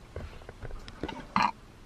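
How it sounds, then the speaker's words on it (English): A short, loud burp bursts out near the end, following a few soft, scattered mouth and household noises in a quiet room. "Oh, nag-burp."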